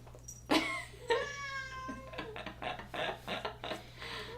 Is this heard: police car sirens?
no